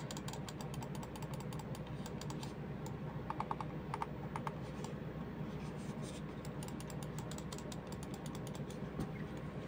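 An Attack Shark X6 computer mouse gives off bursts of sharp, quick clicks, some in rapid runs, faint against a steady low background hum.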